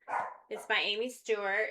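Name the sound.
dog barking at a suspected burglar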